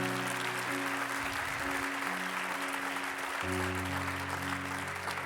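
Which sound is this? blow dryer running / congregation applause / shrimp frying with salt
congregation applause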